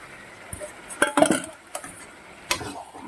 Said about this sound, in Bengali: এবার যে আলুগুলো ভেজে রেখেছিলাম সেই আলুগুলোকে দিয়ে দিচ্ছি